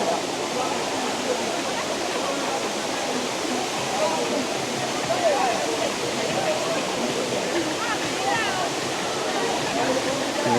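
A seven-stage waterfall in the American Southwest rushes in a steady, loud, unbroken roar of falling water, with no voices over it.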